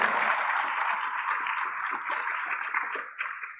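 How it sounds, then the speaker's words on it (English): Audience applause for panel members at a ministerial roundtable, moderately loud clapping that holds steady and then thins out toward the end. "Let's give us a round of applause to all the panel members once again."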